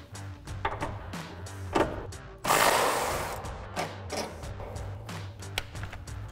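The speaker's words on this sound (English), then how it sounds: "we're gonna take our 15mm bolts out of the top of both mounts" Tools work on the 15mm sway bar link bolts at the top mounts of a 2005-2014 Ford Mustang, with clicks and clanks up close and a louder harsh burst of rattling in the middle.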